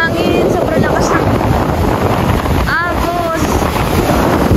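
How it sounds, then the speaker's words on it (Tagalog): Strong wind roars steadily across the microphone during a boat rescue on fast-flowing water. The loud, continuous gusting fills the whole moment, with a brief voice cutting through near the middle. "sobrang lakas ng hangin"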